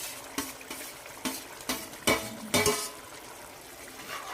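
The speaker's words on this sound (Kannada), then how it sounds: "ಹಾಕ್ಕೊಂಡು ಚೆನ್ನಾಗಿ ಒಂದ್ಸಲ ಮಿಕ್ಸ್ ಮಾಡಿ" A spoon scrapes and knocks in a pan as fried capsicum and onion are stirred into masala gravy, several distinct metallic clinks and scrapes over a soft sizzle.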